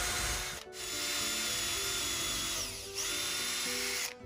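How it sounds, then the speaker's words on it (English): A power drill bores an axle hole in wood for a homemade slingshot arrow magazine, whining steadily in two long passes separated by brief pauses, close and moderately loud. "Now let's get that axle hole drilled out"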